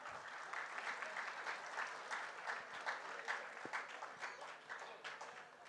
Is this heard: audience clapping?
yes